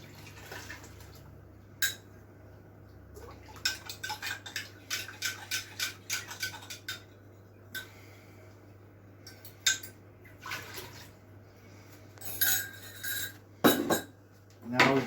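A spoon clinks and scrapes repeatedly against a container while ginger beer mixture with yeast is stirred, giving rapid bursts of tapping broken by short pauses, with a few louder knocks toward the end.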